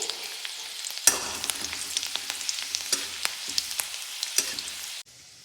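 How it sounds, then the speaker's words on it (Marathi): Chopped garlic and cumin fry in hot oil, a steady close sizzle crackling with small pops and occasional stirring scrapes, alone without talk, cutting off sharply near the end. "लसूण चांगला लाल भाजायचा त्यामध्ये."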